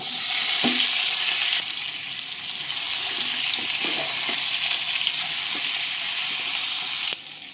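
Boiled potatoes fry in oil with turmeric and chili powder over a medium flame, a loud continuous sizzle that eases slightly after the first seconds, with occasional stirring clinks.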